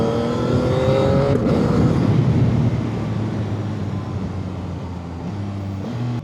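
A CFMOTO 675 SR-R sport motorcycle engine revs while being ridden, a loud steady drone with rising harmonics that climbs and then settles into a sustained lower hum.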